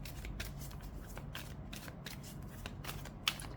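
Lenormand cards being handled and shuffled nearby, a run of soft riffling, papery flicks and slides in quick succession ending with one sharper snap, quiet overall with no speech.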